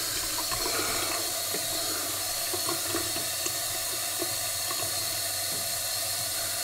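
Hot water runs steadily from a tap while a heated razor is rinsed under it, a soft continuous splashing with faint clicks and taps of the razor against the sink.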